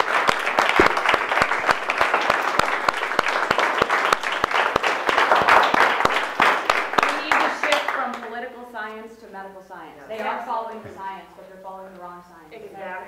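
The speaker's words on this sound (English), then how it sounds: "Let's give yourselves a round of applause." A town-hall audience of Minnesota nurses gives a loud, crowded round of applause with sharp individual claps for about eight seconds, then it fades as a voice begins speaking close by.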